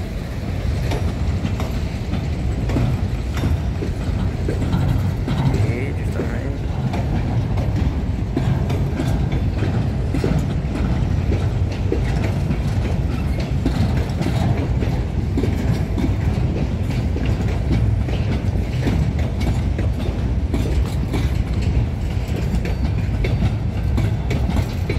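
Empty freight wagons in ex-EFVM colours rolling past on a limestone route, a steady loud rumble with continuous clickety-clack of wheels over rail joints, close by and without pause.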